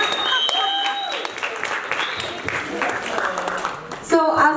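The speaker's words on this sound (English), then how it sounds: "Let's do one last final round of applause and you guys can all bow" A seated event audience gives a final round of applause as participants bow, a continuous crackle of clapping with voices mixed in and a brief louder voice at the end.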